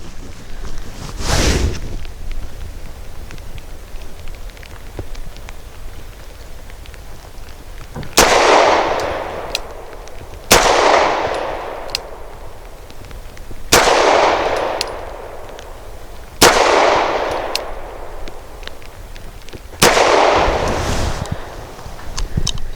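Walther P5 pistol firing Nosler 115 grain match rounds at 7 yards on an outdoor range: one early shot, then five loud, sharp reports spaced a few seconds apart, each ringing out briefly.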